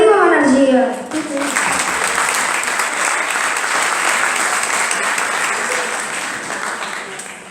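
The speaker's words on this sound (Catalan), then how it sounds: "Aplaudiu amb energia." A school Christmas festival audience applauds with energy after a voice rises and calls out. Loud, dense clapping follows and holds steadily for several seconds.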